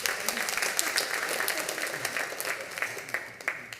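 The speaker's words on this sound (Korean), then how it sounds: "박수하겠습니다." A church congregation at a worship service for people in their thirties and forties applauds, a dense continuous wash of many hands clapping at moderate volume, with faint voices mixed in.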